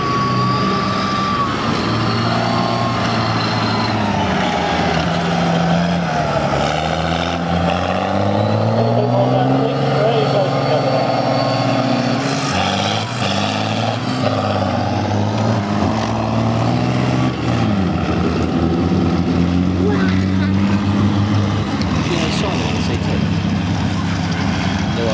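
CVRT armoured vehicles drive around a course, their engines a loud continuous roar with rising and falling revs and track clatter, while people talk in the background.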